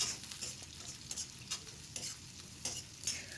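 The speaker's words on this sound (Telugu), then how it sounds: "ఉల్లిపాయల్ని యాడ్ చేసి బాగా మిక్స్ చేసుకొని వీటిని బాగా ఫ్రై చేసుకుందాం." Chopped onions sizzle and fry in a pan while being stirred, with repeated scraping strokes rising over a steady crackle, close and moderately loud, with no voices.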